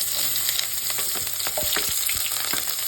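Chopped onions dropped into hot oil with mustard seeds for a tamarind curry sizzle loudly and steadily, with crackling pops and brief stirring scrapes close by.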